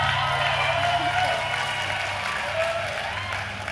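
Audience applause fills the room at a moderate level, a broad steady patter of many hands that eases slightly toward the end.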